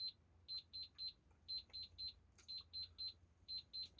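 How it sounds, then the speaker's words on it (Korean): An electronic alarm goes off at 11 o'clock with rapid high-pitched beeps in repeating groups of three or four. It sounds fairly faint over a low background hum. "지금 11시 알람 소리입니다."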